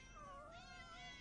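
A cat gives a short, clear meow, close and alone, in a Tagalog-dubbed animated episode about a black cat.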